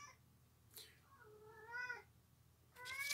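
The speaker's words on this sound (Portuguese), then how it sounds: "Meu gato tá chorando aqui, ó." A cat lets out a drawn-out, wavering meow followed by the start of another, faint against a quiet room hum.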